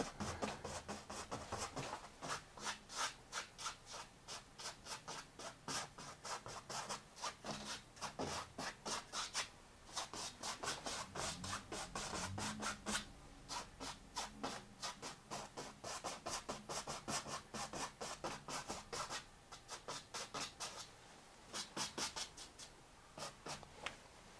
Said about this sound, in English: I'm going to soften that by very light brush strokes back and forth, crisscross.